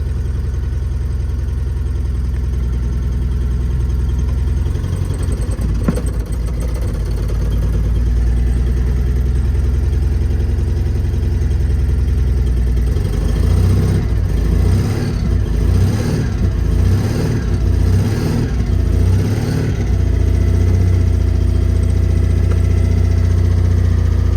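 An old car with a manual choke and fly-off handbrake cranks reluctantly, then its engine catches and settles into a rough, throbbing idle, loud and close with uneven pulsing.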